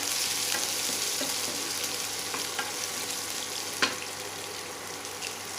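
Green chilli and ginger pieces fry in a tempering for temple-style curd rice, with a dense, steady sizzle up close and a few light spoon knocks and stirs.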